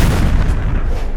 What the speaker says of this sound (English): That explosion was way too big.